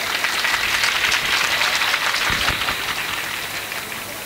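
A crowd at a Hindu devotional gathering gives sustained, dense applause, a steady wash of many hands clapping together at close range, with no voices rising above it.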